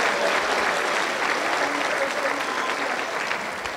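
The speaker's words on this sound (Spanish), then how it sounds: "Aplauso para el Señor Jesús." Congregation applauding during a church service, a full, continuous roar of clapping from many people that stays loud and even from start to finish.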